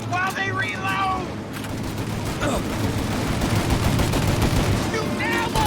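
Sustained shootout gunfire in the game Mafia, dense overlapping shots and bursts rattling continuously, with shouted voices over the start and end.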